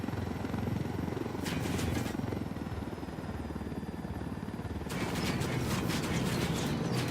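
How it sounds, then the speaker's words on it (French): A helicopter tailing the player in Ghost Recon Wildlands, a steady low rotor thump running throughout with bursts of mechanical clatter and rattling layered on top. "Alors là, il va y avoir un hélico qui va nous suivre."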